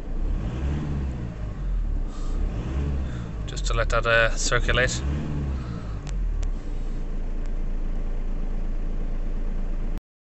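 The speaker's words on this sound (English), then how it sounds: "Now I'm going to start the van. And we'll let it idle for 10 minutes" A VW Crafter 2.0 TDI van's diesel engine runs steadily at a low rumble with a brief rise in revs, while someone talks over it for most of the clip.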